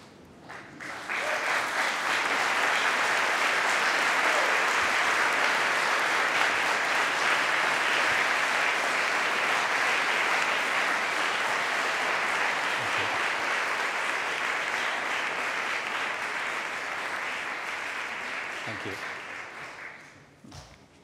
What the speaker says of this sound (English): give a round of applause to your supporters